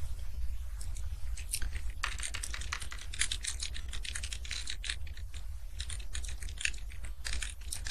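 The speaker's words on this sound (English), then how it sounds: "I'm typing that out" Fingers type on a computer keyboard in quick, uneven runs of close clicks and taps, continuing steadily with short pauses and a low background hum.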